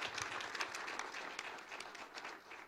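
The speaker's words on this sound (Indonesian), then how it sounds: "Beri tepuk tangan roh yang menyala-nyala" Congregation applause during a Sunday church service, a steady wash of many hands clapping at moderate level, continuous and fairly distant for the whole stretch with no voices over it.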